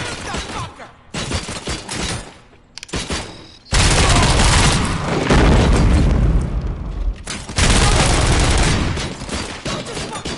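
Gunfire in the video game Robocop: Rogue City, loud sustained bursts and booming impacts in dense waves broken by short gaps, with scattered single shots and some voices mixed in.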